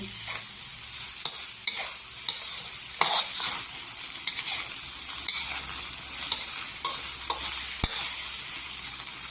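Shrimp fried rice is stir-fried in a pan, a steady loud sizzle with scraping spatula strokes and occasional sharp clinks, close up and without talk.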